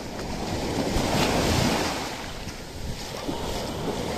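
Big ocean waves surge and crash continuously at sea. The roar of the water swells and ebbs under heavy wind noise, with no talking.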